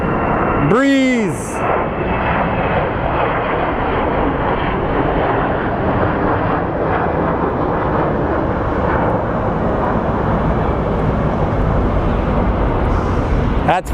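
An airplane at Phoenix Sky Harbor International Airport gives a loud, steady, close roar that fills the whole stretch, opening with a brief rising whine.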